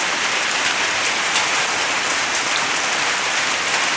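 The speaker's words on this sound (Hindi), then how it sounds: "देखिए बारिश फिर से स्टार्ट हो गई है" Heavy rain pours down in a steady, dense hiss, pattering hard on surfaces with no letup and no voices.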